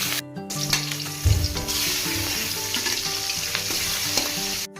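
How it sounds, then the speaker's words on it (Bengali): Rohu fish pieces coated in turmeric and salt fry in hot white oil in a kadai, giving a loud, continuous sizzle with a sharp burst near the start as they go in. "তেল গরম হয়ে গিয়েছে, এবার মাছগুলো ভেজে নিব।"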